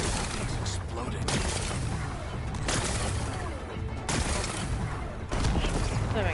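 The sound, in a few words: explosion in the video game Horizon Forbidden West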